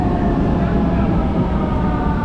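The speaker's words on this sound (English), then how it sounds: "So we're getting this train. Oh, it's here!" A Vienna underground metro train pulls into the station with a loud, steady low rumble and roar, while people talk over it.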